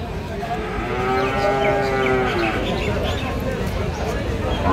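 Cattle at a busy village cow market low and moo in a long, drawn-out call near the start, over a constant murmur of crowd chatter and market noise.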